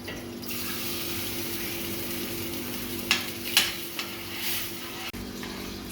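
Tomato paste and grated tomato cooking in melted butter, a steady wash of sizzle and bubbling with a few sharp utensil taps against the pan, close and continuous.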